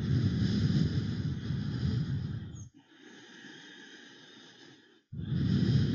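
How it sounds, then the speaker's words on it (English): Slow, steady breaths in and out through the nose during a vinyasa yoga session, with a long loud inhale, a quieter pause, then another breath beginning, heard close and alone. "Breathing in and out of the nose,"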